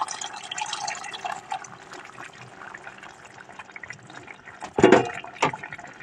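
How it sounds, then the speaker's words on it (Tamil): Ground tamarind paste being poured into a simmering dried fish curry with mango, a brief splash and trickle of liquid standing out over soft kitchen background noise. "குழம்பு நல்லா கொஞ்சமாக புளி அரைச்சி ஊற்றலாம்."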